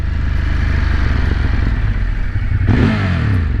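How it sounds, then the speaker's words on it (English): A 2020 Ducati Monster 1200S on its stock exhaust gives a loud, steady engine drone that rises into a revving surge near the end, heard close and alone without talk. "Sounds good, man, for the stock exhaust."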